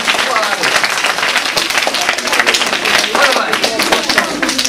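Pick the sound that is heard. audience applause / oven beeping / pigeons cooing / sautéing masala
audience applause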